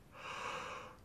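Breath rushes in through the teeth as a single close, quiet hiss lasting about a second, part of a breathing exercise for trumpet playing.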